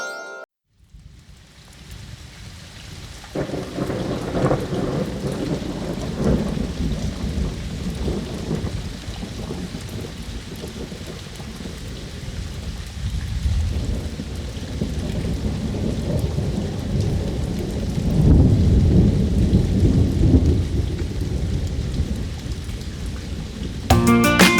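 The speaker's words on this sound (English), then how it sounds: "It's raining, it's pouring" Steady rain and rolling thunder of a thunderstorm fill the whole stretch, loud and close, with heavier rumbles building toward the end and no voices.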